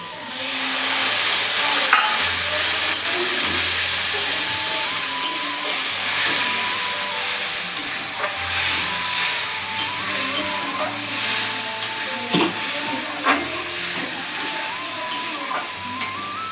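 Tomato, ginger and chili paste frying in a pan, a steady loud sizzle with stirring scrapes running throughout, no voices.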